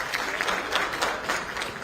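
An audience breaks into steady applause to welcome Acharya Pramod Krishnam onto a televised Hindi debate stage. The dense clapping is close, fairly loud and even, with a few brief voices mixed into it.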